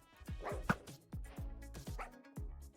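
Minecraft dogs bark in a rapid run of short, punchy yips, about eight in a row, close and fairly loud with brief gaps between them.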